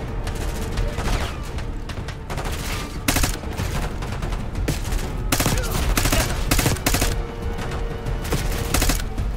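Sustained gunfire in the Call of Duty Black Ops 6 campaign: dense, rapid automatic bursts with sharp cracks scattered throughout, loud and close, continuing without a break.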